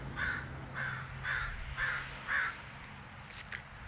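A crow caws five times in an even rhythm, somewhat distant, followed by a quieter stretch of outdoor background.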